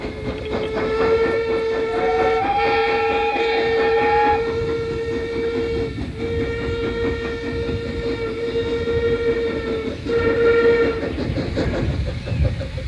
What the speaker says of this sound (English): this is the first train to enter the station